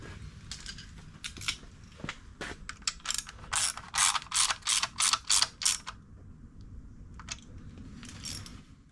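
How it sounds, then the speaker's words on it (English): A ratchet tightening radiator bracket bolts on a classic Mini Cooper, close clicking strokes that start scattered, then settle into a run of steady rapid ratcheting bursts before a pause and a few final clicks, with no talking. "Radiator bracket bolts back in."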